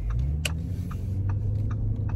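Inside a Lamborghini Urus on the road, a steady low engine and road rumble fills the cabin, with a few light ticks and clicks over it and no talk.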